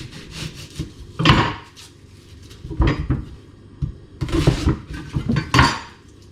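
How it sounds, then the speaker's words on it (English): Onions being chopped with a knife on a wooden cutting board for carbonara pasta, sharp knocking bursts in several clusters, close and fairly loud, with quieter scraping between them. "We'll chop up the onions."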